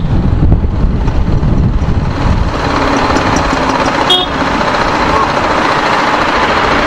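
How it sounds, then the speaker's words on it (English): A TVS Apache RR 310 motorcycle engine runs at steady, fairly low revs, a loud, continuous close-up drone with a brief high chirp partway through. "The bike feels a little quieter now."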